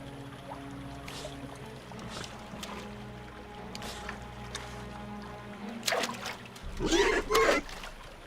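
A tiny amphibian splashes suddenly in shallow stream water, a brief burst of splashing and trickling near the end, after a stretch of quiet running water with soft ambient sounds.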